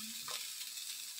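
Cooked rice tipped into a hot pan for fried rice, a quiet hiss of frying with a soft scrape of stirring partway through, no voices.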